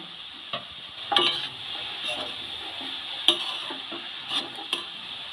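Chopped green chillies being stirred into a cauliflower mixture in a pan for gobi paratha filling, with a steady low sizzle and several sharp scraping clacks of the spoon against the pan.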